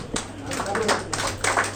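An audience stands and claps together, a dense, steady patter of applause with slightly uneven swells, heard at a moderate distance.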